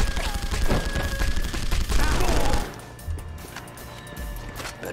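Loud rapid gunfire from The Punisher game fills the first half, then drops away to quieter thuds and scattered impacts, with a voice speaking over part of it.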